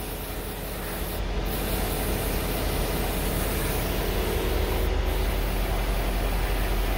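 AMSOIL silicone spray hisses onto plastic car cowl vents in a long, loud, continuous close-up burst, with a brief break near the start and another near the end.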